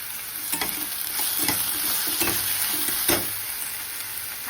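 Onion fries in oil with bay leaf, stone flower and cinnamon, a constant bright sizzle cut by repeated spoon scrapes and stirring knocks, close and loud.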